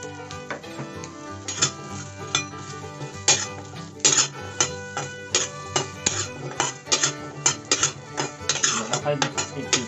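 Chili, garlic and shallots are dry-roasted in a pan for nam prik, heard as rapid clattering scrapes and metallic clinks of a spatula stirring against the pan, close and continuous with a steady hum beneath.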